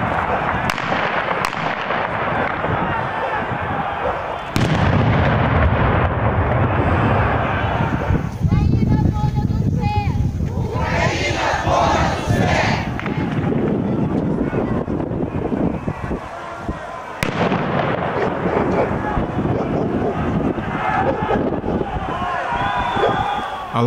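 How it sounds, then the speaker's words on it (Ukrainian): Sharp stun grenade blasts and gunshots fired into the air at a street rally in Slavutych, Ukraine, several loud isolated bangs over crowd noise, wind buffeting and voices. "Проти учасників мітингу були застосовані світло-шумові гранати, сльозогінний газ та постріли у повітря."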